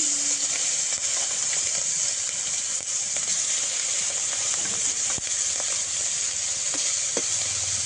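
Shrimp fries in hot oil in a pan, a dense, steady sizzle with occasional crackles and stirring clicks, close and loud, with no voices.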